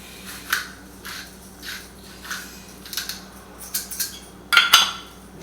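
Eggs seasoned with salt and pepper being whisked in a bowl for an omelette, a series of close, uneven utensil clinks and scrapes against the bowl, building to sharper taps near the end, with no talking.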